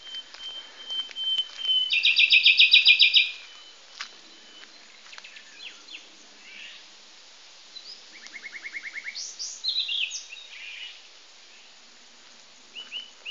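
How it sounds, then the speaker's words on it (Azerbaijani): Birds chirp and sing outdoors beside the Kur river in cool air, bright repeated trills and whistled phrases in two bursts separated by quieter scattered tweets, fairly close and clear with no talking. "Gözəl quşların səsi cəhcəh vurur."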